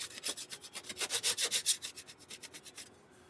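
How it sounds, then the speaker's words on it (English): Drilled holes in metal being deburred by hand, a steady run of about twenty close, even back-and-forth scraping strokes that swell and then fade before stopping. "Let me deburr these real quick like."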